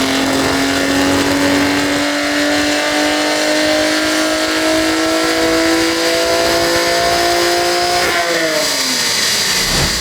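A Stage 3 BMW 340i revs loud and close through a full dyno sweep, its pitch climbing steadily for about eight seconds before the engine lets off and the tone drops.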